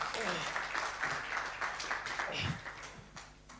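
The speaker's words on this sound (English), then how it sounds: "Let's give him a big round of applause." Audience applause at a health talk, a moderate burst of clapping from a crowd, somewhat distant and fading toward the end, with some voices mixed in.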